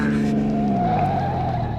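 Radio drama effect of a car being forced off the road: a loud engine roar with a sliding pitch and tire screech, continuous and close for the whole stretch, with no talking.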